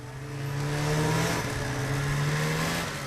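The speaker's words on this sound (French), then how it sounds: "Aujourd'hui, une course de motoneige met un peu d'animation dans la ville d'habitude si calme." Snowmobiles race through a normally quiet Alaskan town, an engine droning with a steady high-pitched whine that swells, dips, and rises again as the machines pass at moderate distance.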